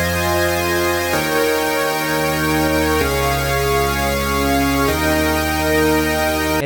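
FL Studio Flex lead synth played dry with no effects, sustained chords changing every couple of seconds over a steady low bass, loud and continuous with no voices.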